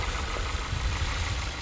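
A car engine runs steadily at idle, a low rumbling drone that stays even throughout without other sounds.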